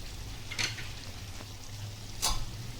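A spoon stirs chicken masala with turmeric and salt in a pan, a soft ongoing sizzle with two distinct scraping swishes, near and fairly quiet, no talking.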